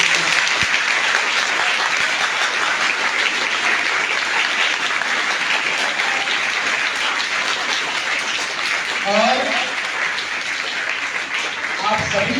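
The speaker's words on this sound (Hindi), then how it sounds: "इसलिए जोरदार तालियां हो सर" Loud sustained applause from students in a school cyber security awareness class fills the room as continuous dense clapping, with a voice briefly audible near the end.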